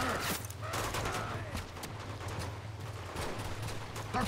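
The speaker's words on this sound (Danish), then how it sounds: "Og nu bliver vi bare skudt fra alle sider." Enemy gunfire in Uncharted 2: Among Thieves, with dense overlapping shots and bursts continuing over a steady low game-score drone throughout.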